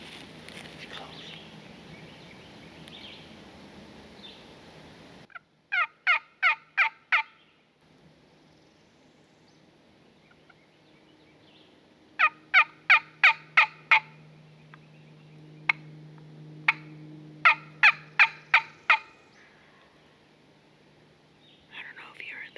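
An Osceola wild turkey gobbles in a Florida river bottom, with several rapid rattling bursts carrying from a moderate distance, while hushed whispering is heard between the calls.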